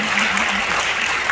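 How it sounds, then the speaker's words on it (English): Audience applause at a Kwanzaa celebration: a short, steady burst of dense clapping filling the room, with a voice faintly audible beneath it. "Yeah, you can clap."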